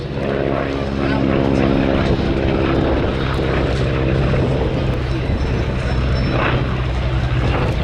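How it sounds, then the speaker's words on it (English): A propeller aircraft that once worked as a crop duster in the United States flies past at an airshow, its engine droning loudly and steadily with a rough throb, while an announcer talks over it. "This aircraft was used for crop dusting in the United States"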